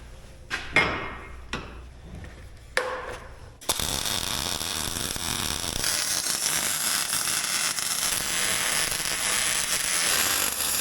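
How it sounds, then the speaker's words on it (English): Welding on a custom Jeep exhaust, opening with a few sharp separate crackling bursts, then settling into a loud, steady, continuous hiss and buzz that runs to the end, close up and with no talking. "Time to weld."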